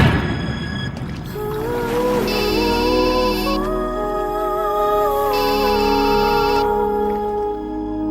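A mobile phone rings with an incoming call, playing a bright melodic ringtone in repeated rising phrases that continues loud and alone for several seconds.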